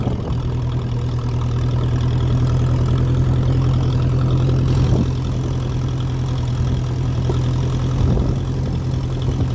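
A 1957 Ferguson 35 tractor running on TVO drones loudly and steadily up close while driving through wilderness, with a deep, even engine rumble and a faint knocking texture throughout.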